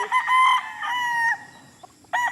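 A Crossville sweater rooster, a light variety, crows loudly and nearby in one long call, followed by a brief clucking burst at the end.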